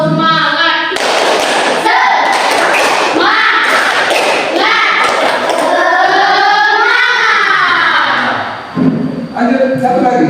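A classroom of schoolchildren stands and performs a rhythmic clapping chant led by the class captain, with their voices chanting loudly together over the claps throughout.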